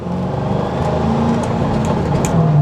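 A 2005 Saleen Mustang engine pulls hard from inside the car, its steady loud drone rising in pitch as it accelerates, with no voices heard.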